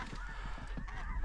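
A flock of snow geese honks continuously during a waterfowl hunt, loud, overlapping nasal calls filling the air with no pause and no talk.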